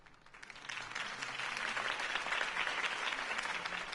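A crowd applauds at a campaign rally in the Batman Telltale Series game, with many hands clapping in a steady wash that swells after a quiet start and holds at a moderate level.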